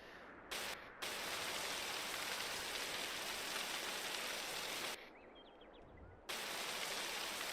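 Rain in Farming Simulator 22 falls as a steady broadband hiss that cuts in and out abruptly, dropping away briefly near the start and again later before resuming at full strength.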